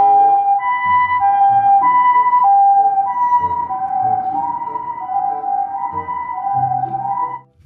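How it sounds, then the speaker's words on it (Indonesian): A loud ambulance siren wails with alternating high and low tones, steady and close for several seconds before cutting off. "lihat, ada mobil ambulan teman-teman."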